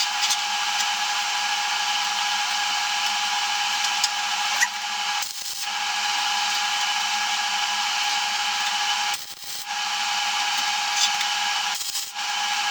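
Flux core MIG welder tack welding steel on a metal workbench, a steady buzzing crackle that runs almost continuously, with a few brief pauses between tacks.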